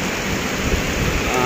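Heavy rain pours down in a busy market in Kuala Lumpur, Malaysia, a dense, loud, continuous roar of falling water with no voices.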